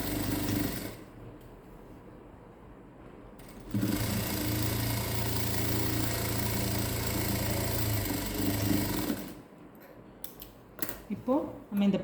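A sewing machine stitches the neck of a close-neck blouse, running in one steady mechanical burst for about five seconds between quieter stretches of handling noise.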